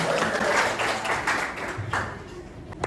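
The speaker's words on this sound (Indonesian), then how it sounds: "Tepuk tangan dulu untuk semua." Students clapping together in a classroom, a busy, overlapping round of claps that starts full and gradually tapers off, with no voices over it.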